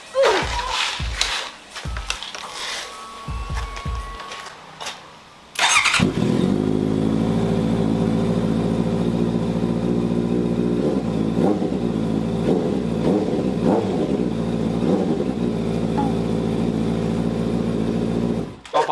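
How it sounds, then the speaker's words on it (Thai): A Honda CBR650R's aftermarket N Spec exhaust blips and pops briefly, then settles into a loud, steady rumbling idle with occasional small revs, close up. "เดี๋ยวเราจะมาฟังเสียงท่อนี้ครั้งสุดท้ายนะครับ"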